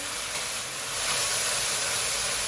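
Oyster sauce and fish sauce sizzling hard in a hot pan before vegetables go in, a steady loud hiss that swells slightly and carries on without talking.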